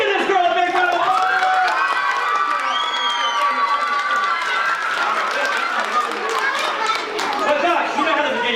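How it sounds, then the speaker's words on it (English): An audience at a Catholic school fundraiser magic show claps and cheers for a girl, loud sustained crowd noise with shouts and whoops mixed into steady applause. "Give this girl a big round of applause"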